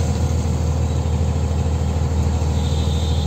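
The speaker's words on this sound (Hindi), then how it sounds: "अब कारों की लाइन आ गई है दोस्तों आगे से।" A line of cars, scooters and autos moves along a road near Pinjore, Haryana, heard as a steady, loud engine rumble and road hum from vehicles passing close by, with no break.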